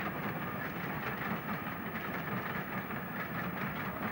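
A British Railways 9F steam locomotive, number 92245, hauls the afternoon up mail train from Bournemouth on the Somerset & Dorset line, a steady dense rumble of engine and rolling carriages with faint rail clatter, continuous and fairly close.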